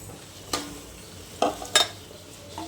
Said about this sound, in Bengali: শাকটা ঝোলটা ফুটে গেছে ভালো মতো, এবার আমি শাকটা দিয়ে দিচ্ছি